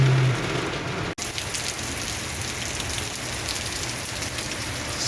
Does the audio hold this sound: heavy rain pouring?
yes